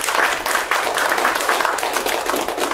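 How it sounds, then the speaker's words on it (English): An audience at an English-language presentation seminar claps for a presenter, an even, continuous patter of many hands at moderate loudness for a few seconds, with no voices over it. "Let's give him a round of applause."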